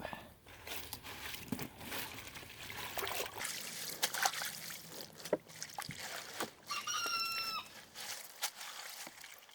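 Callaloo leaves being washed by hand in a tub of cold water give off close, continuous splashing and trickling, with uneven bursts of sloshing throughout.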